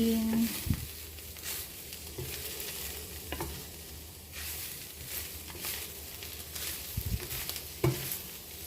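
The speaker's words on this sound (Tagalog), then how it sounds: "Haluin." Bamboo shoot salad (kinilaw na labong) stirred after salt is added: a run of soft, irregular scraping and clattering strokes, moderately close, with no talk.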